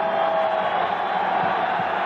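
An arena crowd cheers and shouts at a 1987 indoor box lacrosse semi-final between Washington and the Wings. A steady, loud roar fills the space without pause.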